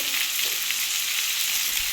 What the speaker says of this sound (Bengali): আমি এবার শুকনো মশলাগুলো একটু দিয়ে দেবো এক চামচ লঙ্কার গুঁড়ো